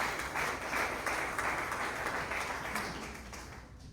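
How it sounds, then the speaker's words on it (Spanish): Audience clapping together in a steady, continuous burst of applause at a religious gathering, fairly close and even in level before easing slightly toward the end. "Démosle unas grandes palmas al Señor con todo el corazón."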